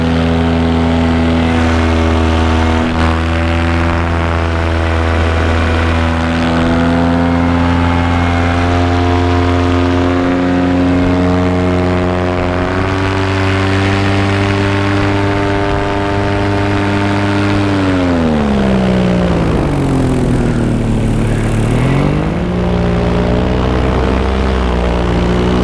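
A paramotor's engine and propeller drone loudly and continuously in flight over Iceland during a steep climb, holding a steady pitch before dipping and swelling near the end.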